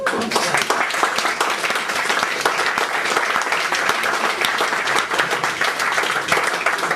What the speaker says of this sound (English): I'd give them all a round of applause.